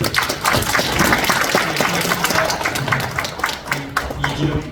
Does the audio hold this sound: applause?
yes